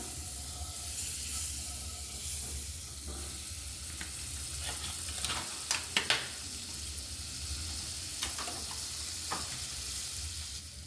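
A spoonful of butter sizzles in a hot kadai before paneer goes in, a soft continuous hiss with a few brief spatters and stirring scrapes, close but quiet, no talking.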